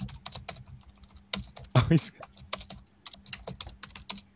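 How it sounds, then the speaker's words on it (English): Quick, irregular keystrokes on a computer keyboard clatter close to the microphone during a casual chat, with a few louder bursts among softer taps. "I don't know who was typing."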